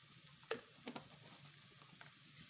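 Onion frying in oil with cumin and other spices for a Moroccan tagine, a soft, close sizzle with a few sharp stirring clicks and scrapes against the pan.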